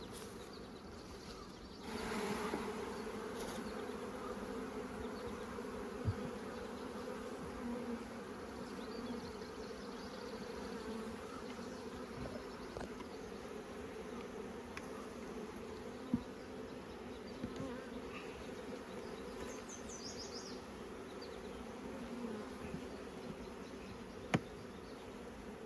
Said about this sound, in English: Okay, that's a nice bunch of bees.